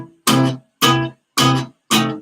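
Four loud, evenly spaced guitar strums hit hard through an amplifier, each a sharp bright attack that rings briefly and then cuts to silence.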